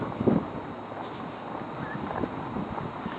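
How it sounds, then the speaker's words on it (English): Wind buffets the microphone outdoors as a constant low rumble and roar, close and steady, with a couple of brief gusty thumps and no speech. "Forgive the wind."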